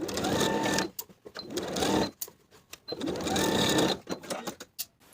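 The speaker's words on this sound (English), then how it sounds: "Sew the panel to the back bodice with a 1/2 inch seam allowance." A sewing machine runs in three sustained bursts, stitching a dress panel to the back bodice, with short pauses and handling noises between runs; close and fairly loud, no talking.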